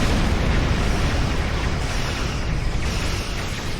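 An assault vessel explodes in the Star Trek Online space game as a loud, sustained roar of broadband rumble that fills the whole stretch without pause.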